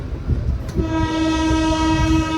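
A Puri–Tirupati Express train on the move, with a steady harmonic horn tone sounding loud and sustained over a constant low rumble of the running carriages, no voices present.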